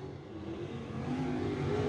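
A race car engine runs steadily through a qualifying lap at Wartburg Speedway, a loud, continuous mid-pitched roar that builds slightly over two seconds with no talk over it.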